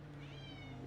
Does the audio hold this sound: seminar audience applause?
no